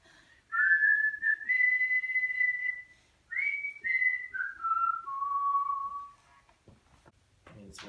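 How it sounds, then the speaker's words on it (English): A person whistles a melodic tune alone, with sustained notes that slide down in pitch across several phrases, clear and close, ending in a short noisy rustle. "Whistling."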